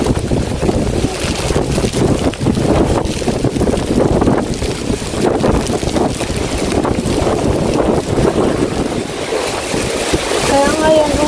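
Strong typhoon wind roars and buffets a microphone in Mindoro, a loud continuous rush with gusts and rumbling, with people talking under it.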